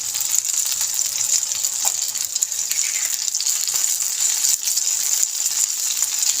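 An egg paratha fries in oil in a pan, giving a steady, close, crackling sizzle with occasional pops throughout.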